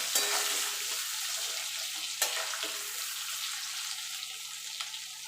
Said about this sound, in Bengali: এবার আলুটাকে আমি লাল লাল করে ভেজে তুলে নেবো